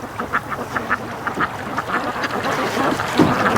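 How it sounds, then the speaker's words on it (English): Several ducks quack in repeated short bursts on a calm lake, moderately loud and fairly close, with one louder quack near the end and no talking. "Now there's a gorgeous duck, guys."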